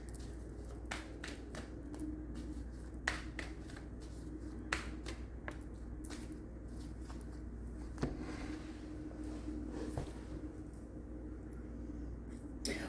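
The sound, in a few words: shuffling and pulling tarot cards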